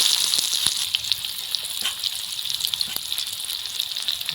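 Onions sizzling steadily in hot oil in a pan while cooking egg korma, a continuous bright crackle with small pops, near and alone.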